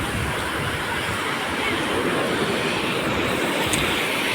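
Sea waves roll in at a shoreline near a Bhavani temple, a continuous loud wash of surf mixed with wind buffeting the microphone.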